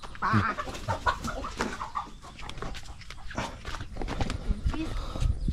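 Chickens on a farm in Ubon Ratchathani, Thailand, cluck repeatedly at close range, with footsteps shuffling nearby and people talking over them.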